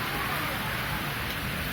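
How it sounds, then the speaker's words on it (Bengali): Steady rain falls in a continuous broadband hiss during a rainstorm, close and fairly loud, with no breaks across the short stretch. "এই ক্যামেরাতে বৃষ্টি পানি পড়লো"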